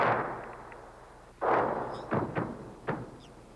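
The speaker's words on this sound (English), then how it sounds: "The Syrian guns opened fire first." Syrian artillery guns fire in a 1974 battlefield report, with several heavy booming blasts spaced irregularly, one after another, over a low rumbling background.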